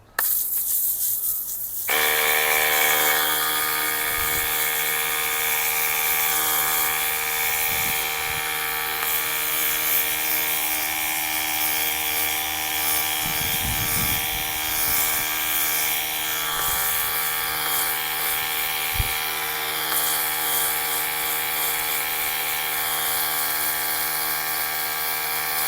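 A Simoniz cordless foam cannon's compressor runs, giving a steady, loud electric whine and buzz that starts abruptly and drones on continuously, with a few faint knocks underneath.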